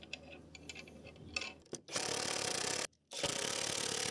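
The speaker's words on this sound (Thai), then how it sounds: "ทำการขันด้วยลูกบล็อกนะครับขันให้แน่นเลยนะครับ" Socket wrench driving a 4-inch bolt into wood while a backyard garden hut is built, heard as a short burst of faint clicks and then loud, steady broadband ratcheting that breaks briefly and resumes.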